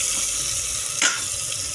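Tomatoes fry in a hot pan, giving a steady, close hiss and sizzle with a brief surge midway, as if stirred, and no voices.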